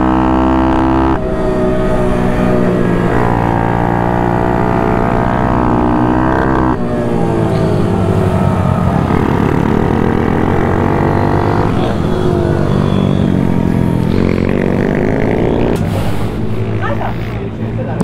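A motorcycle engine revs hard and climbs in pitch, its loud, buzzing drone rising and dropping through several gear changes.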